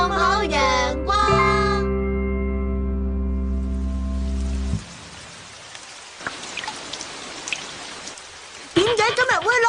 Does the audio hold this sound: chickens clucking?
no